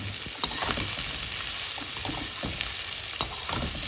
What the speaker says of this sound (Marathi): आता आपण पडवळ जे चिरलेलं आहे ते घालतो